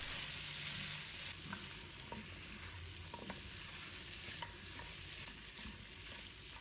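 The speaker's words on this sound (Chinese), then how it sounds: "再把姜蒜给倒入锅中，继续翻炒，把蒜和姜的香味给它炒出来。" Chicken with ginger and garlic stir-frying in a wok, a soft steady sizzle with faint scraping and stirring taps, no voices.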